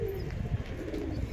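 Breeding pairs of pigeons at a loft coo together in a low, continuous rolling drone, close and moderately loud, with a few faint higher chirps.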